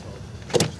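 A car door handled as someone gets into a car at Windsor park, a quiet rustle followed by a single sharp clunk near the end, close by.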